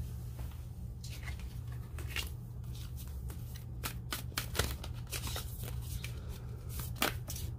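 Tarot cards are shuffled by hand at a table in a quick run of crisp riffling snaps and soft slides, close and clear, with brief pauses between bursts.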